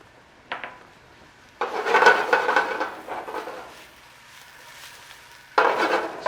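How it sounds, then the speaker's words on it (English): Sautéed spinach, onions and garlic being scraped and stirred into a pan, with bursts of wooden-utensil rubbing and pan scraping separated by quieter pauses. "And now we're just going to incorporate this into our pan."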